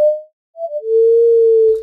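A synthesizer flute patch plays a single sustained tone whose oscillator pitch is moved by an LFO. It starts, pauses briefly, then returns lower and holds with a slight waver, heard alone and fairly loud.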